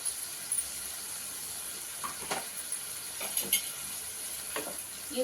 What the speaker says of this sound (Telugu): రొయ్యలు బాగా పట్టాలండి ఇలా కలుపుకొని